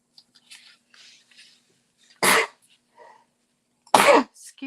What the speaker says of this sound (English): excuse me, do I sneeze every week?